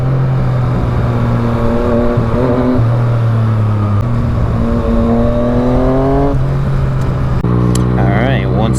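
A Yamaha FZ-09 motorcycle engine revs loud and close while riding, rising and dropping through repeated climbs in pitch as gears shift.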